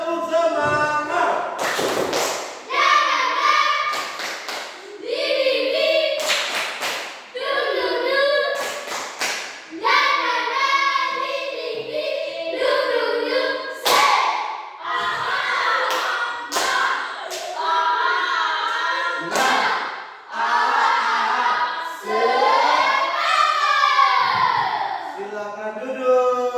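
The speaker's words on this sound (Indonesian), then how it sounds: "Satu orang pimpin dulu, kita tepuk semangat." Primary schoolchildren in a sixth-grade Indonesian class in Watuwula performing tepuk semangat, a rhythmic spirit clap: sharp, patterned bursts of group clapping that alternate with chanting and sung voices, close and lively.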